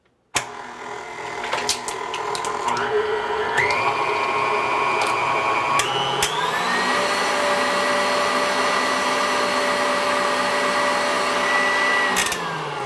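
An electric mixer running on high whips cream made with protein powder, giving a loud, steady motor whine that shifts up in pitch a couple of times after a sharp start, with occasional clicks and rattles.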